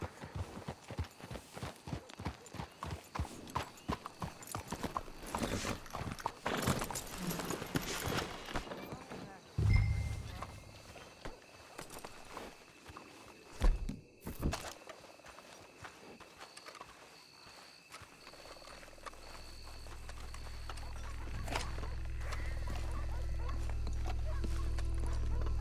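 Horses in Red Dead Redemption 2 walk with rhythmic clip-clop hooves on hard ground, loud at first and then fading, while people speak over it and a low rumble grows.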